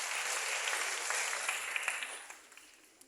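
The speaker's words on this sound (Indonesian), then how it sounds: "Tepuk tangan sekali lagi." A crowd at a youth forum on Indonesian agriculture claps in a full burst of applause that gradually thins out and fades to a few last claps.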